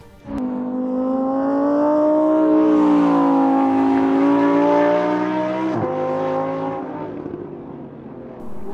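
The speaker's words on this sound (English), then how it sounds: "The engine noise is to die for, and the new chassis is brilliant, especially the drift mode." A Lamborghini Huracan Evo engine revving while drifting in Bahrain, a loud, close, sustained engine howl that holds and rises in pitch, then fades before picking up again.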